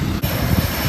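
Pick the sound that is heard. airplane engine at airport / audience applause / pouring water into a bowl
airplane engine at airport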